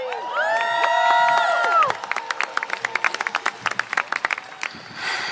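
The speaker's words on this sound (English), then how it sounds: "Let's give her a round of applause." Crowd at a rally event clapping and cheering, with a sustained wavering whoop-like tone that cuts off, then brisk irregular clapping continuing under the general room noise.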